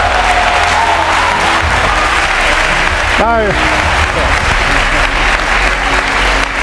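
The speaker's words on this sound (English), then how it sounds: "it's very kind of you to clap, but that proves nothing" Audience applause at a lecture, a loud, dense wall of clapping from a large hall, steady throughout, with a voice speaking briefly over it.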